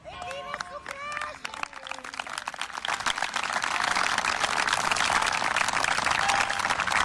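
Crowd applause on a football pitch during a memorial match, a voice speaking over the start before sustained, dense clapping from many people builds and continues.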